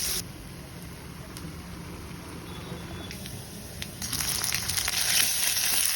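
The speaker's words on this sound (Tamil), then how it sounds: "கருவேப்பிலை கொஞ்சம் போட்டுக்கிறேன்." Curry leaves dropped into hot oil with mustard seeds and chopped onion in a kadai for street-style Maggi noodles, a continuous sizzle and crackle close by that swells louder toward the end, with no voices.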